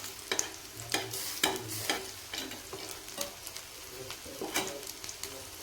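Aloo snacks frying in oil, a continuous close sizzle punctuated by regular scraping strokes of a utensil in the pan.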